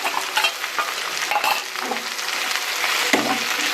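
Ginger, garlic and green chili sautéing in a hot pan with oil, a steady close sizzle broken by several scraping stirs of a spatula, no voices.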